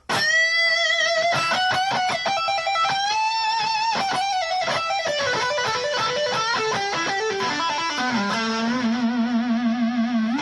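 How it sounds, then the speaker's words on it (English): A heavily distorted electric guitar lead through a Blackstar ID:Core 20 amp with gain all the way up, reverb and delay, played continuously with bending notes and a wash of echo, ending on a sustained low note. "Got a bit of reverb, a bit of delay on this, gain all the way up"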